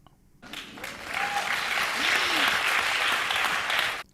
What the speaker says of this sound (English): You people will clap fucking anything